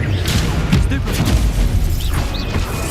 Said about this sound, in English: Stupefy.